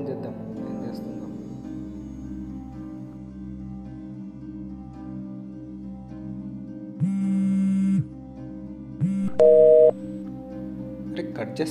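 A telephone handset gives a steady repeating busy tone after a call drops, pulsing in even beats, then broken by a few brief louder electronic beeps near the end.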